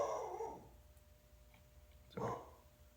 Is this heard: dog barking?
yes